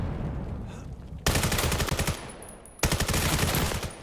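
Two loud bursts of rapid automatic gunfire crackle in a competitive team shooter video game. The first burst is longer and the second follows after a short pause, with faint background noise between them.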